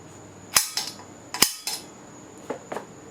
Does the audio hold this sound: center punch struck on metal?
yes